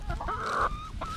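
Chickens cluck close by in quick, rising calls with a brief drawn-out squawk, loud against a faint rustling background.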